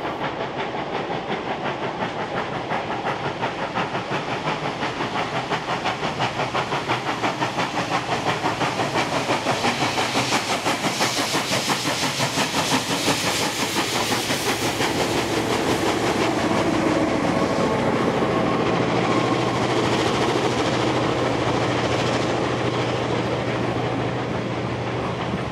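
A heritage train hauled by locomotive 42101 rumbles steadily past at close range in the Blue Mountains, New South Wales, with a continuous roar, hiss and rhythmic clatter of wheels on rails throughout.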